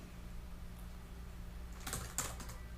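Typing on a computer keyboard during a Tidepool game session, heard as a short cluster of light key clicks over a steady low hum, close and fairly quiet, with no talking.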